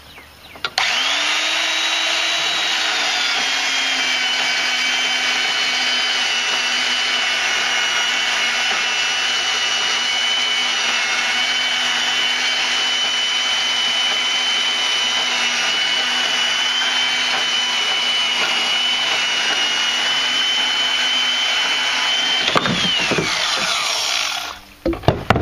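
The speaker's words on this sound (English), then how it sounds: "Now we can use this porta band, that's why I got it out, so we can cut this metal." A portable band saw cuts through metal all thread rod with a steady, loud, high whine that runs unbroken for over twenty seconds, then winds down and ends with a few clanks.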